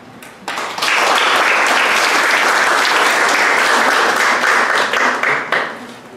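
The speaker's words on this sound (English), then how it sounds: "Let's give him another round of applause." A youth interfaith gathering audience breaks into loud, dense applause for a speaker, rising quickly and holding steady for several seconds before tapering off.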